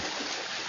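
Continuous watery splashing and churning, steady and close, like many swimmers stroking through the water at once.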